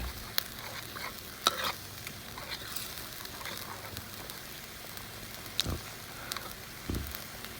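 Curry paste frying in coconut cream in a pan for a Thai chicken and bamboo shoot curry, sizzling steadily up close while a utensil stirs and scrapes with a few sharp clinks.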